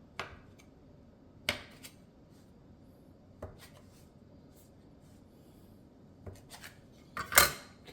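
Handmade spaghetti dough being cut into four pieces, a few sharp, isolated chops and taps against a board, spaced apart in a quiet kitchen, with a louder knock near the end.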